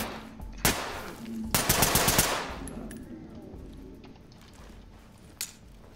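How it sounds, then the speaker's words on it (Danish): Gunfire in the tactical shooter game Ready or Not: a sharp single shot, then a loud rapid automatic burst lasting under a second, followed by a fainter lone shot near the end, with quieter game ambience between. "Så lige sådan ekstra skud."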